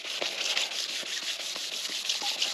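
A sanding block scrapes back and forth over the body panel of a 2017 EZGO RXZ golf cart in quick, regular rasping strokes, close and moderately quiet, with no voices.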